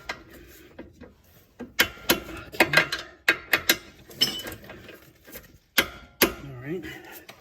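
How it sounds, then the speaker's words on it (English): Torque wrench tightening ball joint bolts on a 2012 Hyundai Tucson front suspension, a series of sharp mechanical clicks and ratcheting bursts, close and fairly loud, with brief gaps between them and someone speaking at moments. "Let's just make sure everything's torqued."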